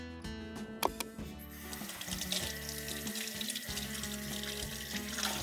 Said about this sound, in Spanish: hay que lavarlos bien con agua